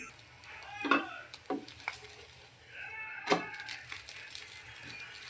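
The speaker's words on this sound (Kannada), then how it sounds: "ಇದೀಗ ಸ್ವಲ್ಪ ಒಗ್ಗರಣೆ ಕೊಡೋರು ಇದಕ್ಕೆ" Spices tempering in hot oil for a chutney served with neer dosa, with short bursts of sizzling and the scrape of stirring in a pan, fairly quiet and close.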